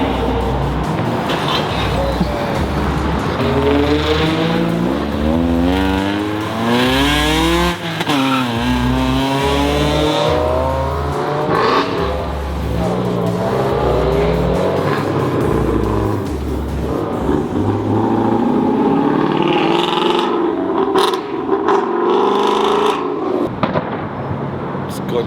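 Cars revving their engines as they leave a night car meet in LA, with repeated loud throttle blips and roaring accelerations mixed with sharp pops, continuous and close, while people talk nearby throughout.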